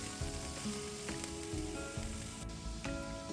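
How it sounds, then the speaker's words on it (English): Vegetables and herbs sauté in a hot pan after seared pork ribs come out, giving a steady close sizzle broken by occasional clicks and scrapes of stirring, with no talking. "reduce the heat to 3/4 and then immediately saute the vegetables with the herbs"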